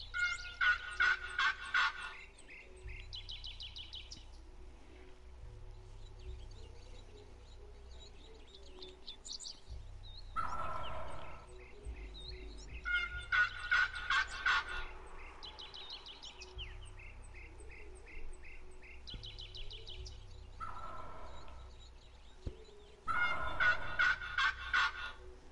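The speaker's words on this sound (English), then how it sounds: "Sounds like a turkey's coming a little closer." Wild turkeys gobble in a turkey hunting video game, loud rattling bursts repeating every several seconds with quieter calls and game ambience between them, and no one speaking over them.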